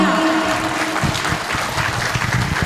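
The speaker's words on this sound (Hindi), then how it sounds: "जोरदार तालियां" Loud audience applause in a studio show, broad, sustained clapping that carries on throughout, with a faint voice briefly underneath at the start.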